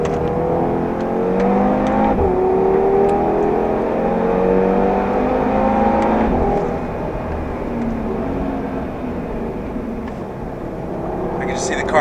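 A 2018 Audi TT RS or RS3 drives fast on a race track, with a loud, steady engine drone and rising and falling tones as gears change, continuing throughout.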